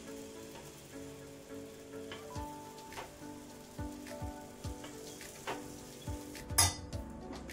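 Sprouted green moong dosa batter hits a hot griddle and sizzles steadily, with a few soft scrapes and clinks and a brighter crackling burst near the end, over a faint tonal background.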